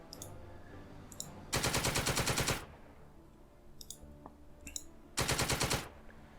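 Machine gun fire in a World War II tactical video game, two loud rapid bursts about a second long each, separated by quieter battlefield noise and distant shots.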